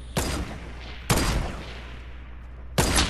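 Shotgun blasts in Fortnite, three loud booming shots spaced about a second apart, each with a short decaying tail, close and with no talking over them.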